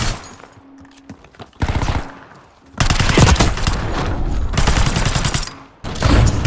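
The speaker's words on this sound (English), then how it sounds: "He's taking shots while not landing any shots on me." Rapid automatic gunfire and shotgun blasts ring out in a Warzone firefight: close, loud bursts rattle in sustained volleys, with short gaps between the exchanges.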